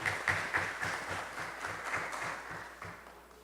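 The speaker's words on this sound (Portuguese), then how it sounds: "essas palmas de vocês estão muito tímidas" Light, hesitant applause from a student parliament audience, a thin patter of scattered clapping that stays fairly quiet and even throughout, with no talking over it.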